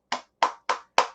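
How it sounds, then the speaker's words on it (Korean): Four sharp hand claps in an even, slightly slow rhythm, close and fairly loud, each a crisp bright slap with a quick decay and silence between them. "박수를 쳐드리고 싶습니다."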